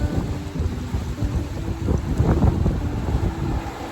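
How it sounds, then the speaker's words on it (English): Wind buffets a microphone outdoors in a steady low rumble with gusty surges and no voices. "It's pretty windy out, so I'm sorry if you can't hear it."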